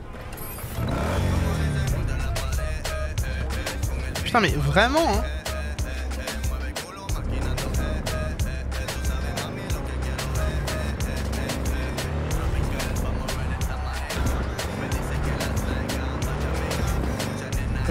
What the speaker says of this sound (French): bah je prends ma moto, ce sera mieux.